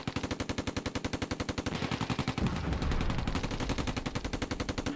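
In a video game battle, a 17-pounder anti-tank gun trades fire with a Mark IV tank. Loud, steady rapid-fire bursts rattle continuously, then swell into a denser, rumbling barrage.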